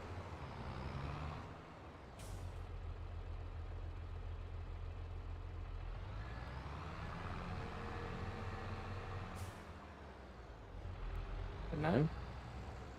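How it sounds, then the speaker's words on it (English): Tractor engine idling and running in Farming Simulator 22, a low steady rumble with shifts in pitch as it moves, plus short hissing bursts, no voices. "Right, so we'll put this tractor away."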